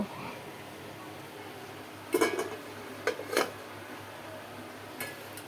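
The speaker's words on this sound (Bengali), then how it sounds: "এই যে দেখতে পাচ্ছেন মাংসগুলো আমি কিন্তু একটা বাটির মধ্যে উঠিয়ে নিয়েছি" Cooked, braised meat for tehari being spooned from a pot into a bowl gives a few brief metallic clinks and scrapes, spaced out and fairly quiet over a faint room hum.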